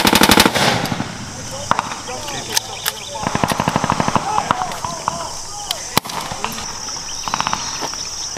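Machine gun fire rattles in rapid bursts during a U.S. Army battle simulation at Fort Magsaysay in the Philippines, loud and close, with sustained stretches of automatic fire and shouting voices over it.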